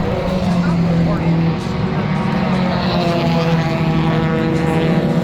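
Race car engine droning during a 24 Hours of Lemons endurance race at MSR Houston, a continuous moderately loud mechanical roar with shifting pitch, heard under a commentator's talk.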